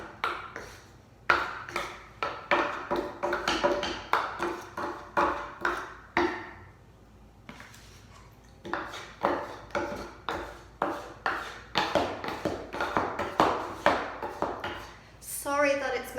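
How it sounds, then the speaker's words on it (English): Wooden chair legs knock wood on wood in irregular bursts of sharp taps, close and fairly loud, with short pauses between runs while an old chair is worked with a sanding block. "Sorry that it's making a lot of knocking noise, but just the angles of the legs, I am hitting wood on wood."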